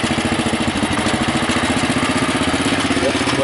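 A Bolens Husky garden tractor engine, started in winter, runs close and loud with a steady, rapid putter at idle throughout.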